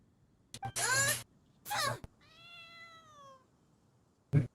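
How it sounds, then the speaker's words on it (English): A cat in Genshin Impact gives a clear, drawn-out meow after two bursts of character speech, then another voice cuts in briefly at the end. "The cat meowed."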